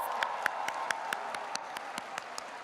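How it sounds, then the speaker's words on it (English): Applause from an audience at a university induction and pinning ceremony for incoming students, a steady wash of many hands with a few sharper nearby claps standing out, moderately loud and continuous. "Yes, give yourselves a round of applause."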